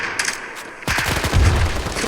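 Video game gunfire, likely from a FAMAS rifle, opens with a sharp shot, then a rapid burst of close, loud shots crackles and booms through the second half.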